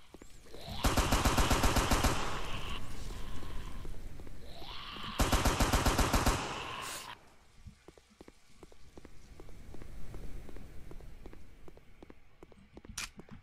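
Two long bursts of rapid automatic gunfire ring out in a video game, each lasting about a second and a half, followed by quieter scattered game sounds with no talking.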